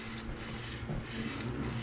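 Freehand sharpening of a PM60 steel knife blade on a 220 grit stone, with steady back-and-forth rubbing and rasping strokes, close and continuous, in repeated passes.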